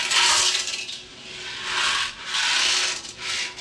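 Loose metal nuts inside a 1998 Harley Sportster fuel tank, shaken about in rolling waves of close, harsh rattling and scraping, with a short lull between surges.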